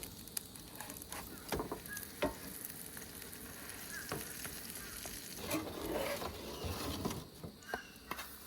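Quesadillas fry in oil in a hot skillet at a camp cooking setup, giving a steady crackling sizzle with scattered sharper pops and spatters throughout, moderately close and with no voices.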